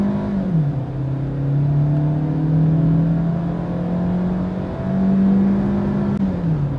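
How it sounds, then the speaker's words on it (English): A 2022 Maruti Suzuki XL6 engine with 6-speed automatic revs hard under full acceleration, its growl climbing in pitch, dipping briefly at a gear change near 6000 RPM, then rising again, close and loud. "Listen to the engine."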